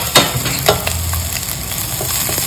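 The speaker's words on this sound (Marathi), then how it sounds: "याच्यात अंडे टाकून मस्त फ्राय करायचं थोडं" Eggs frying in a pan for egg biryani, with a loud, steady sizzle and a few sharp scraping stirs near the start, no voices.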